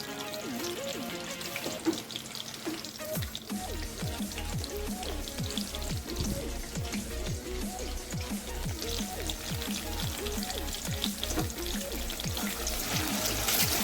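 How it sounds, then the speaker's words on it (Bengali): Nigella seeds (kalo jeera) sizzle in hot oil in a kadai while cooking a curd bhindi (okra) curry, a steady crackling fry with rapid pops running throughout, close and fairly loud, with no talking. "তেলের মধ্যে দিয়ে দিচ্ছি কালো জিরে ফোড়ন"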